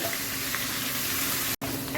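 Potatoes and jackfruit frying in a pan, a dense steady sizzle heard up close that cuts out for an instant before resuming.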